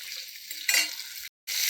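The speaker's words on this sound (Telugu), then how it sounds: "అలాగే 2 టమాటాలండి, ఇవి వేసేసి కొంచెం నూనెలో వేగనిద్దామండి" Chopped onions and two tomatoes frying in a little oil for a kabuli chana rajma masala curry, a steady sizzle with a brief stirring burst and a short gap near the end.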